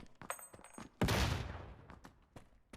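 A grenade detonates in Fallout 4 as a sudden loud blast with a long rumbling decay, set among faint shuffling game sounds and small clicks before and after.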